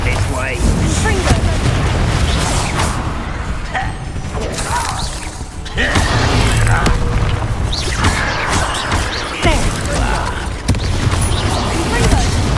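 Repeated blasting spell explosions and combat effects in the video game Hogwarts Legacy. Loud booms and crackling bursts sound continuously under a dense battle mix, with a shouted spell voice over them.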